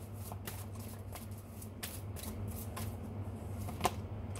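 Tarot cards are shuffled close by, quiet riffling bursts and soft flicks repeating irregularly, with one sharper snap near the end, and no talk.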